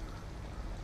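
Rain falling steadily outside an abandoned house in Detroit: Become Human, a soft even wash of drops heard alone for a brief moment.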